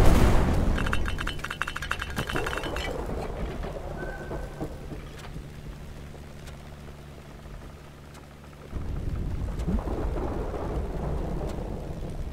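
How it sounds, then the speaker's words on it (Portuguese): A thunderstorm in the video game Black Skylands, with loud rain pattering throughout, a sharp thunder crack early on, rumbling that fades into quieter rain, and a heavier downpour swelling back near the end. "Caraca, tempestade, o vento, o ambiente, tudo nesse jogo é bem maneiro"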